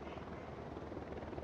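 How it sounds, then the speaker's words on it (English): A helicopter in the Ghost Recon Wildlands video game gives a steady, dense rotor-and-engine roar with a fast low thumping pulse, continuous and close throughout. "Be really bad to get shot by the helicopter right now."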